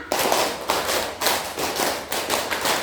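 A group claps in time during a counting clap game, with sharp claps in a steady rhythm of about two per second. The sound is loud and close, with no speech over it.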